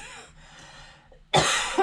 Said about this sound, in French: Ça me fait tousser en plus.